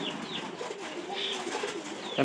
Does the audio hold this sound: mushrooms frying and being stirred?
no